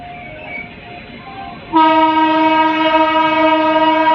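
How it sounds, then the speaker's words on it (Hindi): The Howrah Superfast Express passes Sahibabad without stopping, its horn blaring a loud, sustained, multi-tone blast that starts suddenly after a quieter stretch of rail rumble. "ये शायद हावड़ा सुपरफास्ट एक्सप्रेस है भाई"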